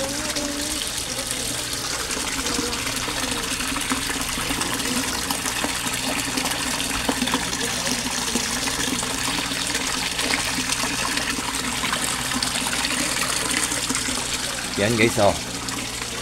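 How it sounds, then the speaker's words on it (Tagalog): Aquaspeed submersible pump in a koi fish setup pushing out a steady, loud rush of water that runs without pause, with someone talking briefly over it and a short splashing burst near the end. "So yan guys, submersible pump guys oh. Aquaspeed submersible pump. Ang lakas-lakas guys oh."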